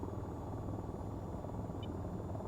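A helicopter in the VTOL VR flight game flies with a continuous low, pulsing rotor drone, steady and fairly quiet, with no voices over it.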